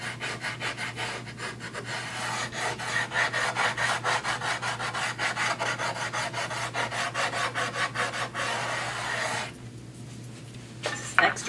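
Rust eraser rubbed back and forth along the steel blade of a guillotine paper cutter, a close, rhythmic rasping scrub in quick even strokes that stops near the end.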